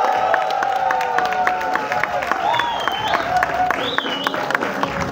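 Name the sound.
audience applause at trailer launch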